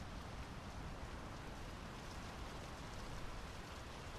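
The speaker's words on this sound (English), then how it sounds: "The rain's picking up." Steady rain pours in the game Draugen, a dense, even hiss of drops on surfaces that holds unbroken and fairly loud from start to finish, with no voices.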